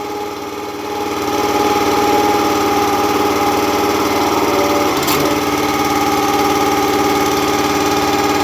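Wolfe Ridge 17 RS wood splitter engine idling low, a steady close mechanical drone with a hum that swells slightly after the first second, then runs evenly with a brief clatter midway and no talk.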